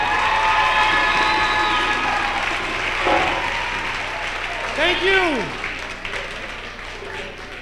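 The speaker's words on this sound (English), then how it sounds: "Let's give Anthony a big round of applause." Audience applause and some cheering for the artistic director of a dance theatre company at a 1992 cultural event, loud and sustained at first, then thinning as a voice speaks over it.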